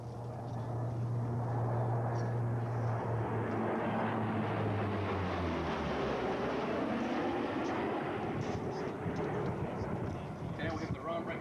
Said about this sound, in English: And the 757 is now going to position for its display.